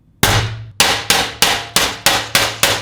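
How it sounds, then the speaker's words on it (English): Seven sharp, loud hammer blows flattening the metal edges of a rust repair panel, struck in a steady rhythm after a brief quiet start, each ringing briefly before the next. "We're going to use this hammer and we're going to flatten these edges."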